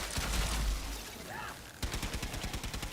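Rapid gunfire from the Warframe video game, dense bursts of shots with a heavy low boom early on, then a quicker rattling volley of evenly spaced reports in the second half, loud and close with no talking.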